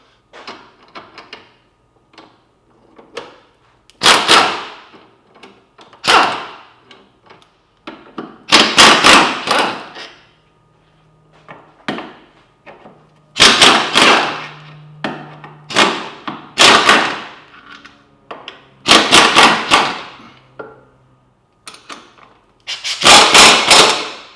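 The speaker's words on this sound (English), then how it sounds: "I really love this particular air gun." Pneumatic air impact gun working on a blown LS2 V8 engine in a garage during an engine pull: loud bursts of rattling hammering, about ten separate rattles of one to two seconds each, close and alone, with short pauses between them.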